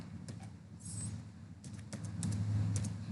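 Python code is typed on a computer keyboard in quick, light clicks, with bursts of keystrokes over a soft room hum.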